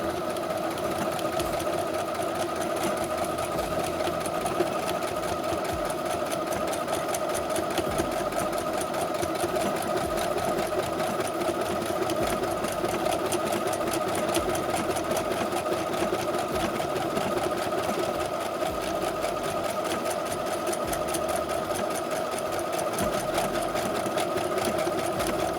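A Brother sewing machine stitches a buttonhole with a loud, steady, fast mechanical whir and rhythmic needle ticking, running evenly and close up for the whole stretch, with no talking.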